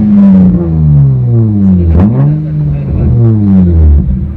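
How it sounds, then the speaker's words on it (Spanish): A Hyundai Tuscani V6 engine runs loud and close, its throbbing idle swelling into a couple of revs and settling back down. "Y escuchen el motor."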